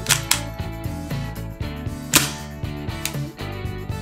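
Sharp mechanical clicks and clacks from handling an Ingram M11 gas blowback airsoft pistol while its bolt is cocked, several distinct close metallic snaps scattered across a few seconds, no talking.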